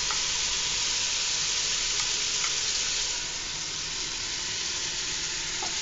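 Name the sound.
beans added to sizzling meat in a pot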